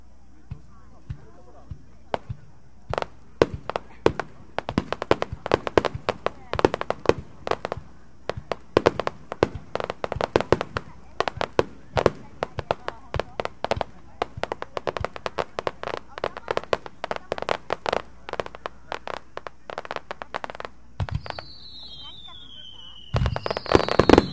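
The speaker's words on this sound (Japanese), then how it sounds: "幻想的なしだれ花火、花火でゆっくりと舞い落ちる花火にうっとりとしていただきます" Weeping willow (shidare) fireworks at a festival display, sounding as a long series of sharp bursts and crackling pops, some close and loud, spread irregularly throughout with dense clusters and a brief rising whistle near the end.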